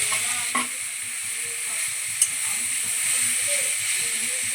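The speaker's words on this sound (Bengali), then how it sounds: "ঘিয়ের মধ্যে গাজরটা খুব ভালোভাবে নেড়ে চেড়ে ভেজে নেব" Grated carrot sizzles steadily in hot ghee with a bay leaf as it is stirred, a continuous frying hiss with soft scraping strokes of a spoon running underneath.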